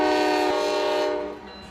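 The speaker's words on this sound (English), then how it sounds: "The roar of the engine follows the train." A freight train roars past close by, with a loud sustained rumble and a sounding horn that fades slightly as it moves on.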